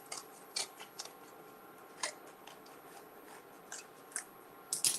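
Tomatoes being cut up, a series of sparse, soft crisp slicing clicks spaced irregularly against a quiet background, no talking.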